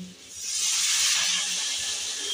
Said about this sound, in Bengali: নিয়ে এবার ওর মধ্যে আমি জল দিয়ে দেবো।